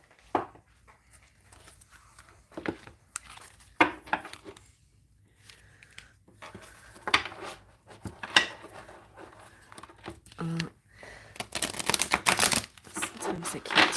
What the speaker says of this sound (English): Sometimes I can't shuffle this way.